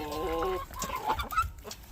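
Chickens clucking inside a coop up close, with a drawn-out tonal cluck followed by shorter squawks and clucks of moderate loudness, alone without talk.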